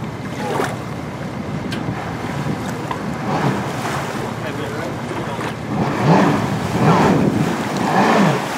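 A boat motor hums over lapping water and wind gusts on the Delaware River as a boat is put in at a ramp, with rushing surf swelling louder toward the end.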